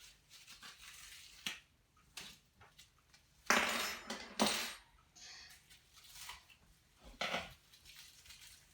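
Ground hamburger handled and dropped into a cooking pot for homemade cabbage rolls, giving soft irregular clatters and scraping with a few louder knocks of the pot near the middle, close and moderately quiet with no talk.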